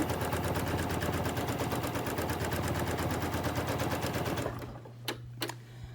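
A Janome Memory Craft 9850 sewing machine free-motion quilting gives a fast, steady, close mechanical rattle for about four and a half seconds, then stops, leaving a low hum and a couple of light clicks.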